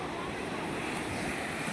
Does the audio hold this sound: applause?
no